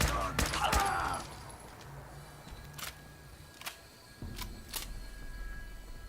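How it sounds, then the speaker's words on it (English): Gunfire in the Fallout Equestria VR video game: a handful of sharp, separate shots ring out at uneven intervals, fairly quiet against a low background hum, with an early burst of denser noise. "I did shoot first"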